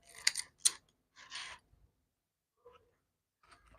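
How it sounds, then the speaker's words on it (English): A few sharp metallic snips come close together, then a softer scrape and faint clicks, as scissors cut thread while making waist beads in a quiet room. "So you're gonna grab some scissors, cut off"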